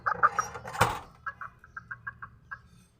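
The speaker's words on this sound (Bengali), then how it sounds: "তো এখন আপনাদেরকে আমার দুইটা মুরগি দেখাইতাছি" Two backyard laying hens cluck in short, repeated bursts at a fairly faint level, with one sharp knock partway through and no talking.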